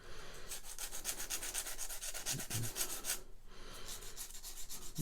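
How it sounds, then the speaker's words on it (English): A sanding sponge held between sticks rubs against a plastic part from a 1:35 scale Saladin armoured car kit, giving a close, quiet run of rapid scratchy back-and-forth strokes with one brief pause partway through. "So I'll just get a sanding sponge with a stick either side,"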